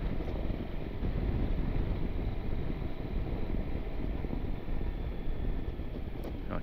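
Strong, constant wind roaring and buffeting loudly near a suspension bridge at a reservoir, rumbling low throughout with no pauses and no voices.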